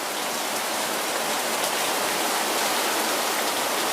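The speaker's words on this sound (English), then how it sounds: "Okay, there's some rain for you." Steady, dense rain falling outdoors during a heavy storm, a continuous loud hiss with no pauses and no voices.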